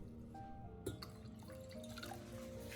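Vinegar and water poured into a small pot for a green onion pickling brine, a faint, close trickle and dripping of liquid with a few light splashes.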